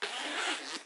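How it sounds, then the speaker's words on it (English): A zipper on a makeup kit bag being pulled open or closed in one smooth, continuous rasp lasting under a second, close and clear with no talking. "Zips absolutely brilliantly, no issues at all."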